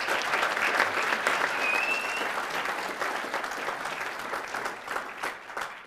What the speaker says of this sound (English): let's have a round of applause for YAF, please